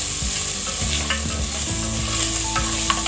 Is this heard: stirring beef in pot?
yes